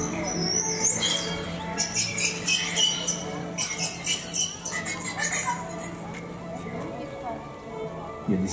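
Bright, rapidly rising and falling whistles and chirps from dolphins at Planète Sauvage zoo in Port-Saint-Père, several overlapping, with a watery crackling background.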